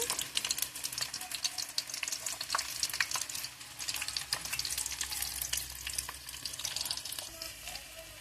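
Onions sizzle and fry steadily in hot peanut oil for a fish curry, a continuous close crackle with scattered pops and faint stirring, no talking.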